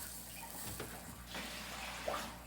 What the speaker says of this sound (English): I dumped that out so we can see how much I just poured into here out of here.